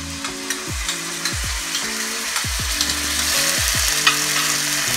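Ginger-garlic paste frying in a pan with a steady broadband sizzle, stirred with several distinct scraping strokes, loud and close with no talking.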